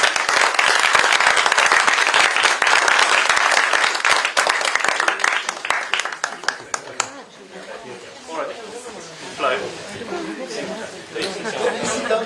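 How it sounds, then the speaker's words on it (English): Applause from a climate strike event audience in Davos after a panel, dense clapping and chatter at first, thinning out into scattered claps and murmuring crowd voices over the final seconds. "A round of applause, please."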